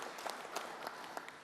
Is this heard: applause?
yes